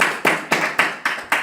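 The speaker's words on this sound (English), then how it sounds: "give her a big round of applause" Audience applause for a volunteer at a card magic show: a handful of distinct, sharp claps in a quick, slightly uneven rhythm, close and loud.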